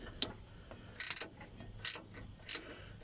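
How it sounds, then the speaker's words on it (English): A ratcheting angled wrench turns a bolt while replacing a motor mount on a Nissan Datsun with a TD27 diesel engine, giving three short, quiet bursts of clicking ratchet teeth spaced apart, close by with no talking. "I really like these ratcheting, angling wrenches, whatever they're called."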